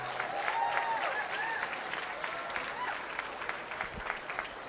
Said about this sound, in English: Please give them a round of applause for the work they've done.